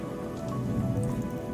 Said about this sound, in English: As you fly off, we got the rain coming in.